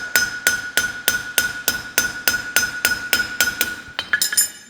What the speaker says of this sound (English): do a little bit of a hammer finish, just knock the edges off.